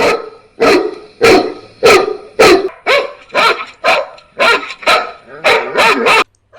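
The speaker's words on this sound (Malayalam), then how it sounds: "ജർമ്മൻ ഷെപ്പേഡ് മുതൽ നമ്മുടെ തനി നാടൻ ചാവാലി വരെയുള്ള പട്ടികളെ കൂട്ടിൽ ഇറക്കി പക്ഷേ ശബ്ദരൂപത്തിലാണ് മാത്രം" Loud recorded dog barks repeat about a dozen times in a fairly regular rhythm, each a sharp, close bark separated by short gaps.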